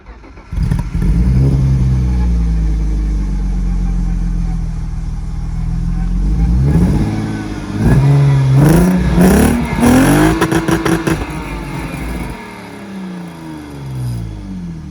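BMW E36 with an E90 diesel sport exhaust starting up, idling with a deep burble, then revved repeatedly in sharp rising blips close by, settling back to idle; no talk.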